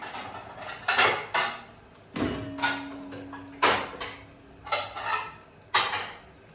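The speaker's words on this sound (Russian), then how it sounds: "Так, теперь накроем, наверное, крышкой." Metal baking tray being covered and handled in a kitchen, several sharp clanks and scrapes of metal on metal at uneven intervals, close and moderately loud, with no voice.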